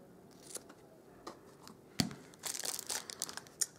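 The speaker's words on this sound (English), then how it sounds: "so I'll just trim off both like that at an angle and trim that off at an angle" Scissors snip ribbon ends at an angle on a papercraft popcorn box, giving several quiet, crisp cuts with one sharp snip and a flurry of small crinkling sounds close by.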